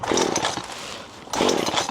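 A chainsaw revs in two loud bursts with a quieter idle between them, close by during front garden clearing.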